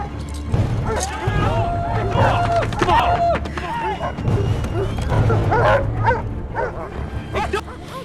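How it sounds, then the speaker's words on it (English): Several dogs bark and yip excitedly, close and overlapping, with a voice talking over the continuous barking. "dogs hearing the noise begin rushing over"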